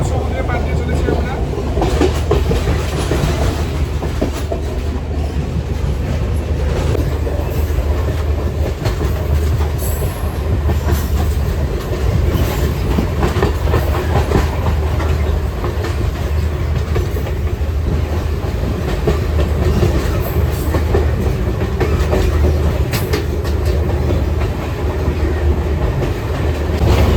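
A passenger train runs along the seashore between Galle and Colombo in Sri Lanka, its steady loud rumble and rhythmic clickety-clack of wheels on rails continuing throughout, with occasional faint wheel squeals.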